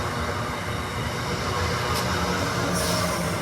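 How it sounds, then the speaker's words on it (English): An East Midlands Railway train passing through Bournville station, a steady broadband rumble of wheels and carriages held at constant loudness, with a brief high squeal of wheels near the end. "Oh, another East Midlands Railway."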